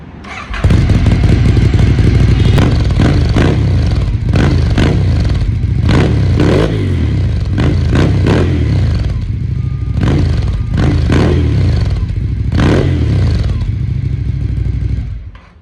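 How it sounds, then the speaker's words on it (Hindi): Ducati Scrambler motorcycle fitted with a Termignoni exhaust, revved up repeatedly in loud close bursts over a steady idle, several sharp throttle blips following one another. "तो टर्मोगनी एग्जॉस्ट लगा हुआ है, साउंड बहुत प्यारी प्रोड्यूस करता है।"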